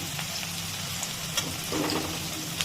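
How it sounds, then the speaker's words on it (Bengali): Garlic and ginger fry together in hot oil for a mashed potato bhorta, giving a steady close crackling sizzle with a few small pops. "ওই আদা রসুনটা একসাথে দিয়ে প্রথমে একটুখানি মিক্স করে নিচ্ছি, মানে ভেজে নিচ্ছি।"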